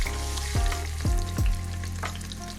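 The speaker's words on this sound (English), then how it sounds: "let's go ahead and get our oxtails in and sear them" Oxtails searing in a pressure cooker set to sear, a loud steady sizzle with three sharp bursts as pieces hit the hot pot.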